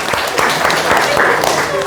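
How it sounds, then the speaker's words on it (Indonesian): Children in an Arabic-language classroom give a brief burst of clapping, with voices heard through it. "tepuk tangan"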